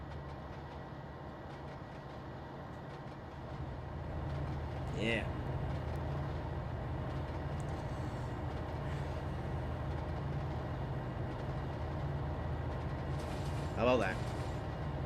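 An ES44AC locomotive leads a freight train of hopper cars through Cajon Pass in Trainz Simulator 2, giving a steady low rumble with a couple of brief higher squeals while a person talks over it.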